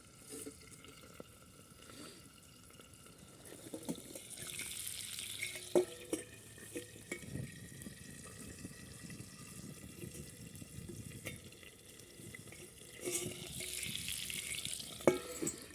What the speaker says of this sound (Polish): Niech to się mi dobrze przesmaży